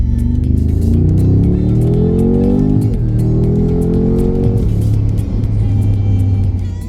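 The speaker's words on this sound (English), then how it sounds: "in Sports Plus you can hear the exhaust roll, and if I just downshift and do a pull" A Mercedes-AMG G63 with a 600 bhp engine in Sport Plus mode drones loudly, its exhaust note dipping and climbing through a downshift and then pulling hard, with crackles over a steady roar.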